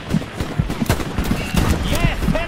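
Rapid gunfire crackles in a first-person shooter video game, with several sharp shots from a Mosin rifle and other weapons in quick succession over a busy battlefield, while a voice speaks in between.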